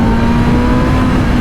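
A BMW M1000RR motorcycle engine revs hard through the higher gears, a loud, close, steady high-rpm drone with a strong tonal hum under wind roar.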